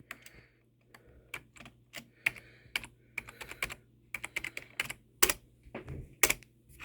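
Quick, irregular clicks of a computer keyboard being typed on, close up, with bursts of keystrokes and short pauses and no voices.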